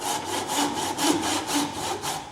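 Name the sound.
hand saw cutting down into wood held in a vise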